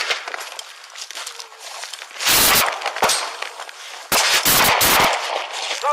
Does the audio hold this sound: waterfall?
no